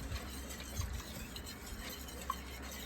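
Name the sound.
whisking milk into a roux for creamed tuna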